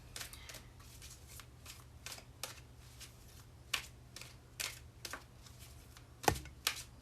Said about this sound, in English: But I'm going to shuffle again.